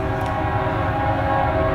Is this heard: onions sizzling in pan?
no